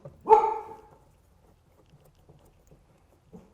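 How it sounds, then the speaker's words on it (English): A shop dog gives one sharp, loud bark nearby, then near silence with faint low knocks and a soft thump at the end. "that's our shop dog who probably saw the mailman"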